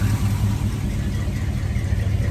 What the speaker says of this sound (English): There you can hear the exhaust. Good sound and exhaust.